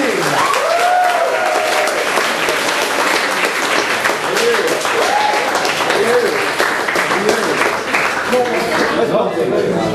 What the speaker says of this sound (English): Another round of applause for our Birmingham Uni team.